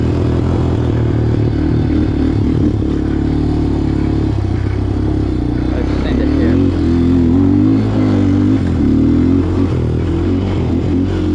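A 2008 Yamaha Raptor 250 four-wheeler engine laboring up a hill in second gear, a loud, steady droning roar with rising and falling pitch, rattling and clatter throughout.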